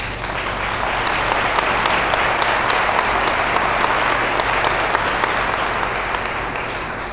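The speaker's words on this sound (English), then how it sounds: "They deserve the applause." Dense, sustained applause from a large audience at a school event, steady and loud throughout with a broad, continuous wash of clapping and no letup.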